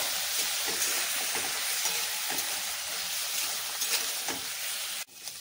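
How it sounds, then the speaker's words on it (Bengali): Vegetables fry in a pan with salt, turmeric powder and ginger paste, giving a loud, steady sizzle with stirring scrapes throughout, then cutting off abruptly near the end. "এবার নেড়ে চেড়ে ভালো করে সবজিটাকে ভেজে নেব"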